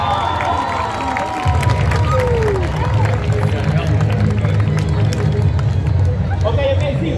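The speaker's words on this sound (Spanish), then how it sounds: "aplauso." Crowd on a busy Madrid street at night around Puerta del Sol and Gran Vía, with cheering, scattered clapping and general babble over a steady low hum, people talking throughout.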